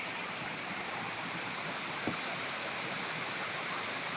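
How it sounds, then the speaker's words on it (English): Running water at a waterfall gives a soft, steady broadband rush that continues evenly, heard from some distance, with one brief thump partway through and no talking. "That is the falls again, babes."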